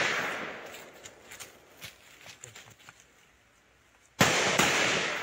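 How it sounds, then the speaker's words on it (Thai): Gunfire from clashes at the Thai-Myanmar border near Mae Hong Son comes as a series of sharp cracks and pops at irregular intervals, followed by a sudden loud, sustained burst of noise near the end. "เสียงปืนเสียงปะทะกันเนี่ยทำให้ชาวบ้านที่อยู่ตามแนวชายแดนไทยเมียนมาโดยเฉพาะที่แม่ฮ่องสอนเนี่ยเขาได้ยินกันตลอดเวลานะคะ"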